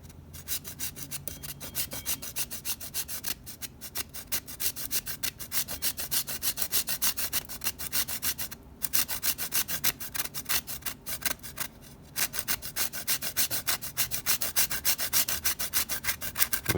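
Nutmeg being grated, a steady, loud, close rasping scrape that continues almost without pause, with a couple of brief breaks, and no voices.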